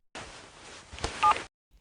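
Brief telephone dialing with a few short electronic keypad tones over faint background noise, followed by a sudden cut to silence.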